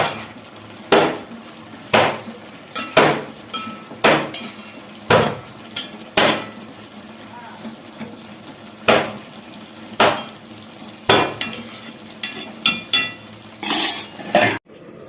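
A spoon stirs a pot of kootu curry, a thick Kerala vegetable and lentil dish, with repeated sharp scraping clinks against the pot at an uneven rhythm, close and fairly loud, with no talk.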